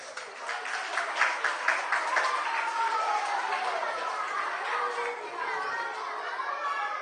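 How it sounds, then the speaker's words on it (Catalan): An audience at a didactic concert by a youth band applauds schoolchildren, recorder players and percussionists, with clapping strongest early on and blending into lively chatter and children's voices that carry on throughout. "Fort aplaudiment per a ells."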